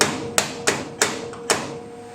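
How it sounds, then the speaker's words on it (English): Light hammer taps on a metal car panel during a panel replacement, five sharp separate strikes spaced roughly a third of a second apart, close and clear over quiet. "give it a few light taps."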